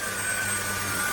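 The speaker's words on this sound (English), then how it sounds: "This is almost like shop vac level suction." A Trucozie cordless stick vacuum cleaner runs on low fan mode, giving a brief, steady, airy whine with a faint high tone, even in loudness and heard alone.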